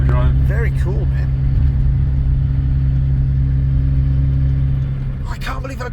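Steady, loud low engine drone and rumble from a Volvo 760 turbo diesel with a 4-speed clutchless overdrive gearbox while driving, a slight transmission whine beneath, with people talking at the start and end.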